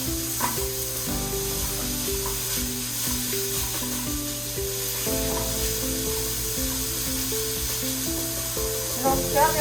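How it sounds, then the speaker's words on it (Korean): Meat stir-fried on high heat in a pan for hijiki rice, giving a continuous loud sizzle and hiss with occasional stirring scrapes under steady background music. "센 불에서 이렇게 볶아주세요"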